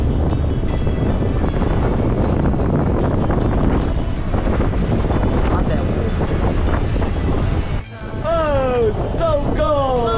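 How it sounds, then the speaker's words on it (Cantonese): Strong wind buffeting the microphone on a fishing boat at sea, a loud rushing roar with water noise, and voices calling out near the end. "今日最尾起晒風"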